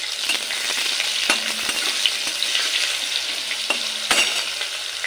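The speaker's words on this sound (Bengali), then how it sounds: "আলুগুলো একটু লাল করেই ভাজতে হবে। ভাজার সময় দিয়ে দেব অল্প পরিমাণে হলুদের গুঁড়ো" Potatoes fry with a pinch of turmeric in hot oil, giving a continuous bright sizzle up close, broken by a few sharp clicks of a spatula stirring the pan.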